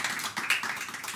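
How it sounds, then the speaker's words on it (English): A small round of applause for the technicians at a virtual charity coffee morning, a brief patter of light, uneven claps, fairly quiet and close. "big round of applause for all the techs"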